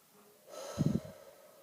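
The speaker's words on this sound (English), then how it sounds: "after I catch my breath" A single heavy breath of someone catching their breath: a soft airy hiss swells into one close, puffing exhale with a brief snorting rush, then fades back to quiet.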